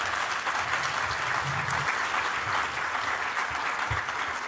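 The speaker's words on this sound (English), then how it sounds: "Let's give them one more round of applause." A room claps for an Air Force Junior ROTC Sabre team at a school district Wall of Fame ceremony, a dense steady round of applause holding at an even level for the whole stretch with no voices over it.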